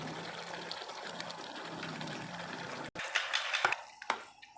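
Fried capsicum and onion are tipped into a pan of chicken jalfrezi with ketchup, a steady wet sizzle giving way after a brief drop to a run of close clinks and scrapes.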